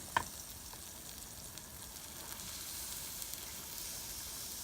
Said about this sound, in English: There's my steaks going on